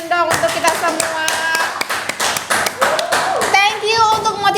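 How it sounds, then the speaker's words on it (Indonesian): A group of schoolchildren claps together in a burst of applause, with sharp individual hand claps close by. Young voices talk and call out over the clapping. "Tepuk tangan dong untuk kita semua."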